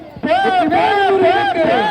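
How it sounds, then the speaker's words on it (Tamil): Festival crowd at a Soorasamharam enactment roaring and chanting together, loud and sustained, with many voices rising and falling in waves. "பெரும் ஆரவாரம்"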